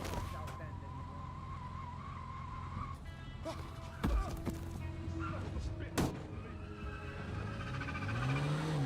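A video game car drives along with a steady engine drone, punctuated by a few sharp impacts and a rising tire squeal near the end, while someone talks over it.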